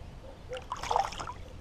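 A freshly released bream splashes in the water of St Georges Basin, a brief close watery slap and splash over faint background noise, with no talking.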